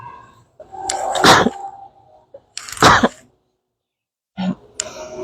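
Two sharp sneezes burst out a second or so apart, close and loud, followed after a pause by a shorter throat-clearing sound.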